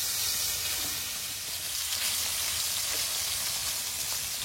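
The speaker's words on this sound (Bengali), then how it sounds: "চুনো মাছ কটা ভেজে নিচ্ছি।" Small chuno fish fry loudly and continuously in hot oil, giving a dense, close-up crackling sizzle with no pauses.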